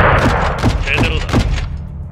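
Gunfire erupts in a military video game, a rapid burst of several sharp cracks and thumps over a rumbling low bed, fading out at the end.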